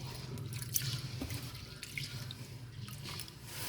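Sticky rice being washed in water by gentle stirring, a soft continuous swish and slosh of water with small splashes and drips, quiet and close with no talk.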